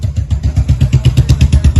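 A tractor engine revs hard while towing a stuck trolley loaded with sand, producing loud, close, rhythmic chugging thumps that pulse steadily and build slightly in intensity, with no voices over it.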